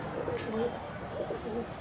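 Brown high-flyer pigeons in Rajasthan coo softly at close range, a few low, throaty rolling coos, with faint background noise throughout.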